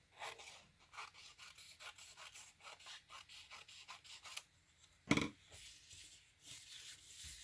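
Trimming the edges off old book pages, a run of soft rhythmic paper scrapes and rubs at close range, then a single sharper crisp snap followed by lighter rustling.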